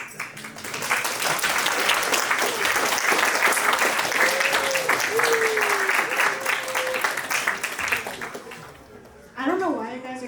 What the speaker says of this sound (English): I don't know why you guys are clapping